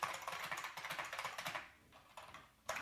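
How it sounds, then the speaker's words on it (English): Quick, rhythmic keystrokes on a computer keyboard tap out a few lines of text, close and quiet, with a brief pause before a final clack of keys. "So I'm just typing out a few lines of text."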